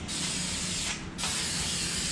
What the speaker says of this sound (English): Using some prep spray, and we're gonna clean this up